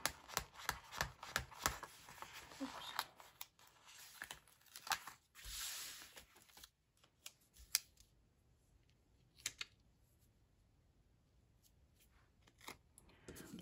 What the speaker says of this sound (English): Let's cut it in half, and then we'll have two stickers.